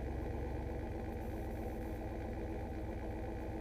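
A pickup truck engine idles at a traffic light, a quiet, steady low rumble with a faint pulsing throb throughout and no talk.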